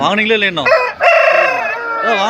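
A loud, close rooster crows at a rooster market during the Thai Pongal festival, in a long rising-then-falling call, harsh and harmonic-rich, with a second crow starting right after.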